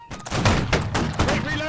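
Musket volley fire in the Napoleonic-era battle game Holdfast: Nations At War, a rolling burst of overlapping gunshots from a line of muskets, loud and close, with shouting voices mixed in.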